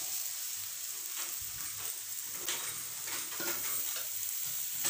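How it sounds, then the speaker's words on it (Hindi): Potato and pointed gourd pieces drop into hot spiced oil in a home kitchen pan, giving a steady close sizzle with stirring scrapes and soft clatters throughout. "अब मैं इसमें जो सब्ज़ी है वो डाल दूँगी।"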